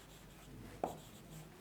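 Chalk or marker strokes on a board during a class-11 coordinate-geometry lesson on straight lines, heard as two short, sharp scratching taps about a second apart over a quiet room hum.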